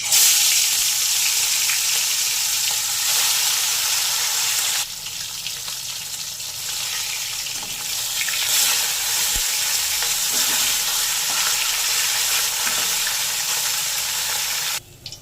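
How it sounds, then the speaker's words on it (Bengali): Loud, continuous sizzling and spitting of bhola fish frying in hot mustard oil, steady throughout with a brief dip in intensity and no voices. "তেল গরম হয়ে গেছে, ভোলা মাছগুলোকে ছেড়ে দেবো এর মধ্যে।"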